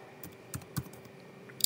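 Light, quiet taps on a computer keyboard come as a few scattered keystrokes at close range, with no talk.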